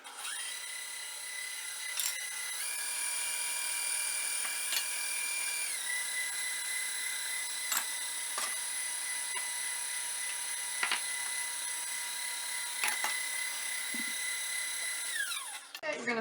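An electric mixer hums steadily while beating carrot cake batter in a bowl, its high whine holding constant for a long stretch, with brief knocks against the bowl and a drop in pitch near the end.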